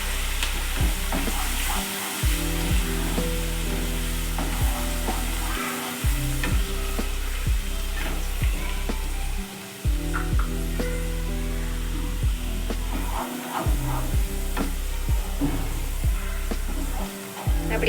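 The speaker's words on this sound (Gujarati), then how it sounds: "હવે આ પેસ્ટને આપણે બરાબર સાતળવાની છે." Ginger-chili paste sautés in a pan for street-style pav bhaji with a steady, close sizzle and occasional stirring scrapes over a constant low hum.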